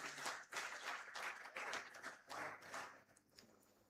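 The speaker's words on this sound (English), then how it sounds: "give yourself a round of applause" Students and staff at an inaugural lecture clap in a round of applause, faint and somewhat distant, in uneven bursts that thin out toward the end.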